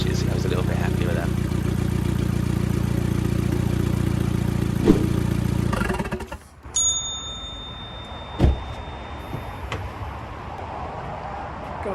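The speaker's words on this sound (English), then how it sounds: "I know it sounds a bit tractory, but the downpipe wasn't connected at this point. But it seems to idle okay." An Audi TT engine idles with its downpipe disconnected, a loud rough steady drone that cuts out about halfway through, leaving quieter room noise with a few knocks and a faint tone.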